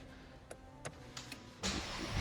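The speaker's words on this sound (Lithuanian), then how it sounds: "Įjungiam variklį" A car engine used for a demonstration of driving with a mobility disability: a few soft clicks, then the engine turns over and settles into a steady running rumble for the last half-second, close and moderately loud.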